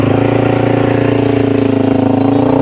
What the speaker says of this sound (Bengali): এখানে হচ্ছে 4 চাকার বাইক আছে, এটাকে একটু চালানো যাক।